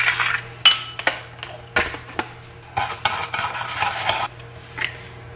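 A spoon clinks and scrapes against a bowl while sugar and citric acid are stirred together, giving irregular close clatters and a brief stretch of gritty mixing.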